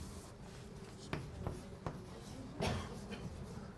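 Chalk or marker writing on a board during a calculus lecture on integrals: a few short scratchy strokes and taps over a quiet room hum, with no talking.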